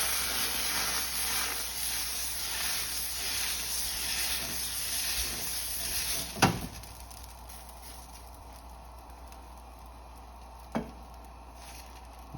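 Dosa batter sizzles on a hot pan with a steady bright hiss that drops in level after a sharp clatter, leaving a quieter sizzle with another knock later.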